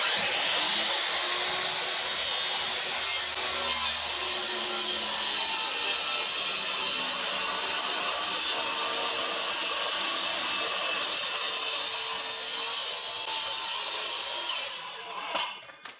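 A power saw cuts through wood for a skyline diffuser, a loud, steady whine and rasp held for the full length before spinning down and stopping at the end.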